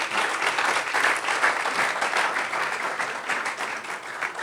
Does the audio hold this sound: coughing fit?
no